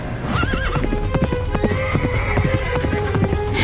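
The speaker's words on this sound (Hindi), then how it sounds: "तभी वहां पर घोड़े पर एक युवक आ पहुंचा" Horse hooves clip-clop in a quick, steady rhythm, loud and close, as a rider on horseback draws near, with a brief whinny early on and no speech over it.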